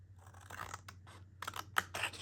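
Scissors snip paper cutouts for junk journal ephemera, producing a short run of quiet, close crisp cuts and rustles.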